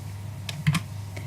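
A few quick keystrokes on a computer keyboard during spreadsheet cut-and-paste work, soft clicks in a short cluster over a faint steady hum.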